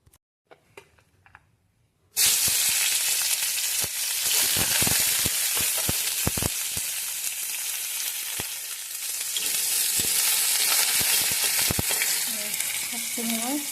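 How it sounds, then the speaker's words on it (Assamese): Freshly washed, chopped leafy greens for the Assamese Saat Bihu dish of seven greens hit hot oil in a pan. After two quiet seconds a loud, continuous sizzle erupts, broken by stirring clacks and pops and heard up close. "এতিয়া শাকখিনি মই ভালদৰে ধুই ল'লোঁ, এতিয়া কুটি আৰু ভাজি ল'ম।"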